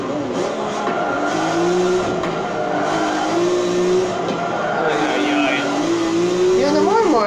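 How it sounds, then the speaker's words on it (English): Race car tires squeal and skid in Forza Motorsport 7 during prototype group racing, wavering screeches over a constant engine roar, with someone talking over the game sound. "all of a sudden this is like skidding tires, losing control"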